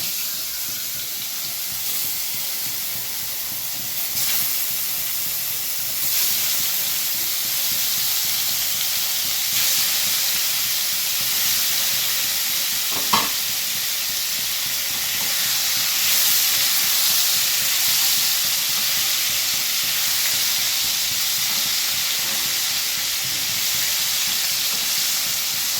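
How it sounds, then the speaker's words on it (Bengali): Paneer pieces fry in a pan with a steady, even sizzle, a continuous close hiss lasting throughout with only tiny shifts in intensity and no voices. "পনিরগুলো ভেজে নেবে।"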